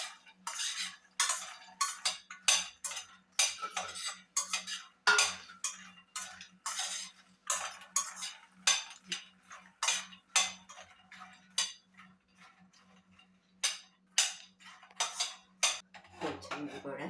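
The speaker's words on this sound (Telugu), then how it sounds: "కరకట్లాడుతూ వేగిపోతాయి." Phool makhana (fox nuts) dry-roasting in a pan, giving a steady run of sharp crackles, clicks and light tinny rattles in an irregular rhythm, close and fairly quiet, with a faint low hum beneath.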